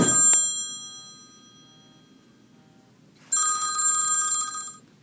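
A telephone rings for an incoming call: a brief ring at the start, a quiet pause, then a longer, louder electronic trill. No voices.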